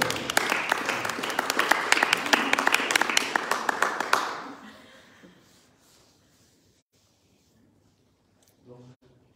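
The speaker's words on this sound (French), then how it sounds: "On peut applaudir quand même." Applause and clapping from an audience at a church school event, dense and lively for about four seconds with some chuckling mixed in, then fading away to near silence with a brief murmur near the end.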